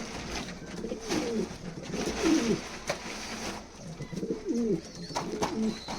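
Pigeons coo in soft, repeated throaty phrases inside a loft full of mixed birds, close by over a busy background murmur.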